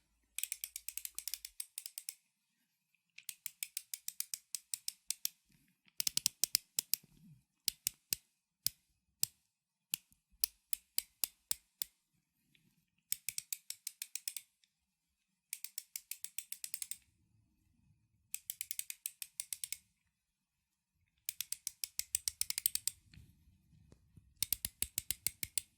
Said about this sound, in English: so I'm just going to get out the trusty ratchet